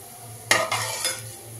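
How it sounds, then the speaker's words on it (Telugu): Fenugreek, mustard and cumin seeds tossed into hot oil for bitter gourd curry give a sudden burst of crackling sizzle with a couple of utensil scrapes over a low background hum. "ఇదే ఆయిల్లో కొంచెం మెంతులు, స్పూన్ ఆవాలు, జీలకర్ర ఆవాలు వేగినాయండి"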